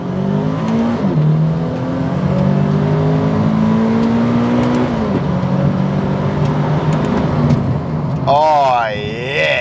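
Supercharged Toyota GT86 engine pulling hard under acceleration, a loud, close drone that climbs steadily in pitch, dips at a gear change, then sweeps up and down sharply near the end.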